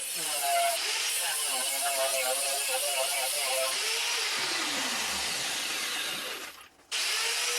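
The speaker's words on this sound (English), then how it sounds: "Just going to use a grinder and rough cut it." A handheld angle grinder rough-cuts small metal gussets for a lathe toolpost grinder spindle, giving a loud, sustained whine whose pitch sags under load, then spins down and cuts out near the end before another short burst.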